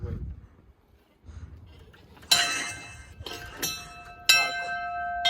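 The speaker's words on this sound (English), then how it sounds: "But wait, ring the bell." A small bell rung by hand on a university campus, struck twice with bright ringing tones that sustain and decay, after a brief moment of quiet and faint background sound.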